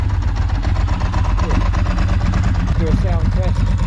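A Ducati 916 motorcycle engine runs at a loud, steady, lumpy idle close by, with people talking over it.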